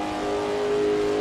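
A vintage 1967 race car in Assetto Corsa runs flat out on the old Nürburgring country lanes, its engine a loud, steady, high-pitched drone held at full throttle, close up and alone.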